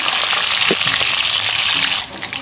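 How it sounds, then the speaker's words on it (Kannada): Green chillies sizzle and fry steadily in hot ghee and oil with cumin in a pan, a loud, dense crackle that stays close and constant, easing slightly near the end. "ಹಸಿಮೆಣಸಿನ್ಕಾಯಿ ಚೆನ್ನಾಗಿ ಸ್ವಲ್ಪ ಎಣ್ಣೆ ಒಳಗೆ ಫ್ರೈ ಮಾಡ್ಕೊಳ್ಳೋಣ"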